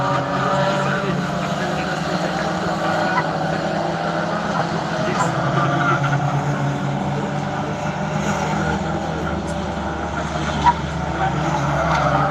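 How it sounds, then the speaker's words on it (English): Race-prepped VW Beetle race cars with 2-liter engines and straight-cut gearboxes drone continuously around the Kyalami circuit corner, engines blending with tire squeal at moderate distance, with people talking over the noise. "these are VW Beetles, so they're all race prepped and they're all running a 2-liter engine"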